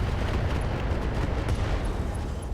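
A structure explosion on a Black Knight mech in the RogueTech battle game: a dense, sustained roar of blast rumble and crackling debris that stays loud and steady for the whole stretch, with no voices.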